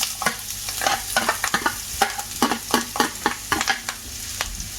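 Pineapple curry ingredients fry in hot oil, with a steady sizzle under repeated sharp scraping and stirring strokes of a spoon against the pan.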